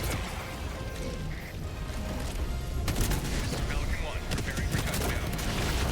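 Gunfire strafes the player in the Helldivers 2 video game, rising midway into a dense, rapid crackling barrage over a constant rumbling battle background.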